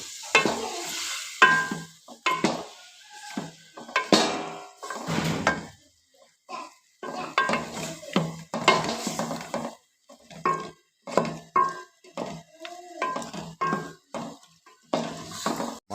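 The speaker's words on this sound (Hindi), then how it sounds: "अब हम इसमें आलू ऐड करेंगे और इसको अच्छी तरह से मिक्स कर देंगे।" Potatoes being stirred and fried in masala for an aloo anda dish, with repeated scraping and clattering strokes of a spoon against the pan over a light sizzle, coming in rhythmic bursts separated by short pauses.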